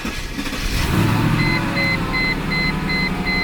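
A Mercedes S-Class engine hums steadily at idle after being started, with a faint, regular high-pitched electronic beeping repeating over the low running sound.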